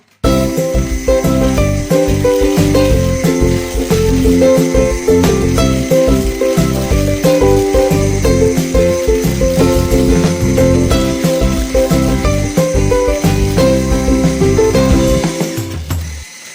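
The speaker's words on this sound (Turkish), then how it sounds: "Şimdi bunları bir güzel çırpıyorum." Eggs and sugar whisked together for a brownie-style wet cake batter, a loud, close, continuous mechanical whirring and rattling that runs steadily for about sixteen seconds with no talk.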